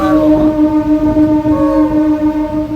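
A MEMU passenger train on the Bhimavaram to Vijayawada run gives a loud, close, steady rumble with sustained whining tones layered over it, and no voices.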